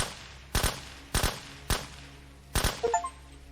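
Gunfire in the zombie survival video game Surroundead: four loud, sharp bursts of shots with gaps between them, the last two bursts close together, over a quiet hum.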